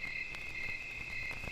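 A chorus of crickets at night beside a swamp, a steady high-pitched continuous trill that holds evenly throughout, with faint low background rumble and no voices.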